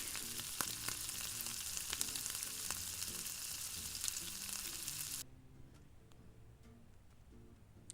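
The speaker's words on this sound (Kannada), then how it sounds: "ಒಂದೆರಡು ಒಣಮೆಣ್ಸಿನ್ಕಾಯಿ ಕಡಲೆಬೇಳೆ ಉದ್ದಿನಬೇಳೆ ಹಾಗೆ ಕರಿಬೇವಿನ ಸೊಪ್ಪು ಇದಿಷ್ಟು ಇಂಗ್ರೀಡಿಯೆಂಟ್ಸ್ನ ಹಾಕಿ ನೀಟಾಗಿ ಫ್ರೈ ಮಾಡ್ಕೊಳ್ಳಿ" Dry red chillies, chana dal, urad dal and curry leaves crackle and sizzle in hot oil in a pan, a dense close frying hiss with small pops that drops abruptly to a much fainter sizzle partway through.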